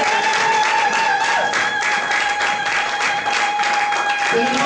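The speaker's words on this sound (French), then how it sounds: "Est-ce qu'on peut acclamer encore une fois le Seigneur?" A church congregation applauding and acclaiming the Lord, sustained loud clapping and crowd cheering that fills the room, mixed with voices and a steady tonal hum.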